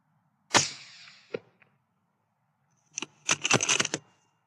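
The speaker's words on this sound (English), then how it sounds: "Shot one fox there." Rifle shots fired at a fox while it approaches a carcass near newborn lambs on a farm: one loud sharp crack with a ringing tail, a faint click, then a quick cluster of several bright sharp cracks about two seconds later.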